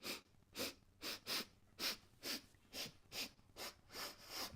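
A voice imitates sniffing: about a dozen short, sharp nasal sniffs in quick succession, close and breathy, with no talk.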